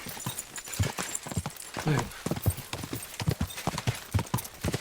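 Horse hooves clip-clop in steady rhythm in the video game Kingdom Come Deliverance 2, close and fairly loud, with a few brief vocal sounds mixed in.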